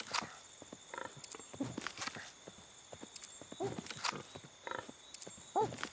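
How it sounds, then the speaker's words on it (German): Wild animal grunts and snorts in the survival game Ancestors: Humankind Odyssey, several short rough calls at mid distance, mixed with footstep-like thuds and rustling over a steady ambient bed. "Erstmal höre ich gerade von da unten grunzen"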